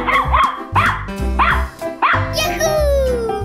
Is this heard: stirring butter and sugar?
no